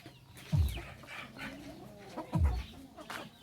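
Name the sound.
chickens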